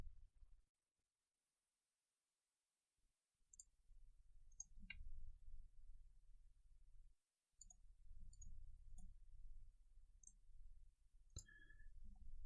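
Computer mouse clicks from shift-clicking during a video game, a few sharp, faint clicks scattered over a low steady background hum, with a quiet gap near the start.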